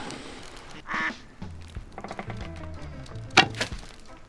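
Several duck quacks in the game Duckside sound at moderate volume, with one loud burst near the middle and another sharp call later, amid game effects and low background hum.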